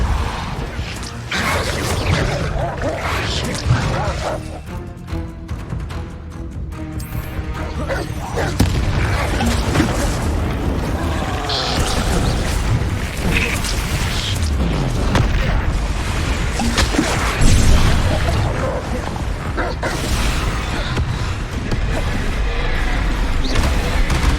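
Spell effects from Hogwarts Legacy blast and boom continuously, dense crashing impacts and whooshing bursts layered over a loud, busy game soundscape with a voice occasionally audible.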